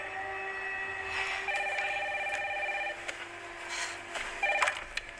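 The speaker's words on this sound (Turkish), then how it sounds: "Telefon çalıyor." A telephone rings in the Resident Evil 9 Requiem horror video game, a steady electronic tone repeating in short bursts over a low ambient hum, moderately quiet with faint clicks.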